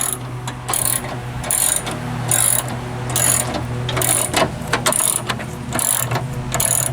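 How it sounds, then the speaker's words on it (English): A ratchet wrench clicks in repeated bursts while loosening headlight bolts on a 2006 Buick LaCrosse, loud and close, with short pauses between runs of rapid clicking. "And the wrenching has started."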